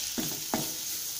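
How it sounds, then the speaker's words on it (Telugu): A spoon stirring masala egg fry in a hot pan with cumin powder, two quick scraping strokes over a constant oil sizzle, close and brief. "ఇప్పుడు బాగా కలుపుకుందాం"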